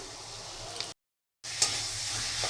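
Masala with ripe and raw tomatoes and Kashmiri chili sizzles steadily in a pan while being stirred, a dense close frying hiss broken by a brief silent gap, with faint scrapes and no talk.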